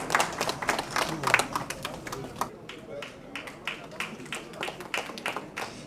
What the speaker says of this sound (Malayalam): ഒരു കൈയടി നമുക്ക് കൊടുക്കാം.